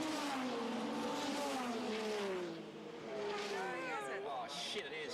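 Race car at Eastern Creek circuit, heard from trackside as a high engine whine that sweeps down in pitch as it passes, with a second rising wail near the end while spectators talk over it.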